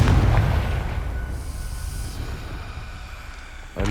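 A Confringo blasting spell goes off in Hogwarts Legacy with a heavy, rumbling explosion that starts loud and close, then decays slowly into a long, low roar before a final thump.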